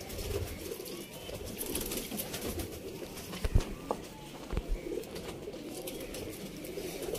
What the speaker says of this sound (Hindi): सेम कैटेगरी दे दोस्तों टैडी कबूतर।